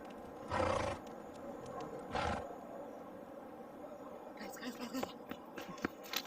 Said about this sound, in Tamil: ஏதோ குதிரை குதிரை சவுண்ட் மாதிரி கேட்குது.